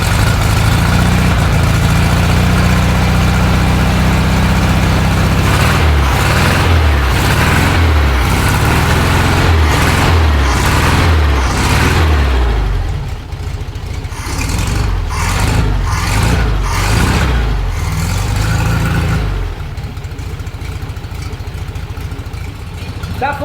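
A 1974 Volkswagen Fusca 1300 air-cooled engine cranks briefly, then catches on its first start and settles into a loud, close, steady running rattle with uneven revs, continuing alone without speech.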